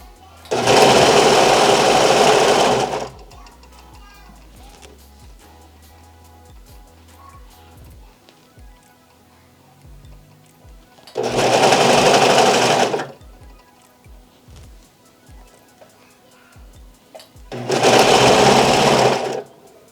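A Vevor industrial sewing machine stitches stretch fabric in three loud, fast bursts of a few seconds each, separated by quieter gaps with faint handling noise.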